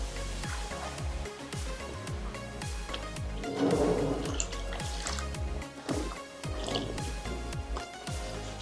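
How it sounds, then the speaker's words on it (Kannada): A riding jacket being hand-washed in warm water gives off steady dripping and soft squishing, repeated splashes at an even rhythm, close and fairly quiet. "ಲೈಟಾಗಿ ಹಂಗೆ ಕೈ ಹಾಕಿ ವಾಶ್ ಮಾಡಿ."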